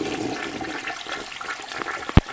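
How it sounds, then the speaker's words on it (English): A household toilet flushes with a continuous rushing, gurgling swirl of water, close and fairly loud, with a short sharp clunk near the end; no one speaks. "I'm flushing the toilet"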